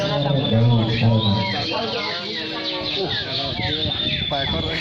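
Cipow birds chirping at a bird-singing contest, thin high tweets over a busy outdoor crowd and an announcer's voice on a loudspeaker, with people talking throughout.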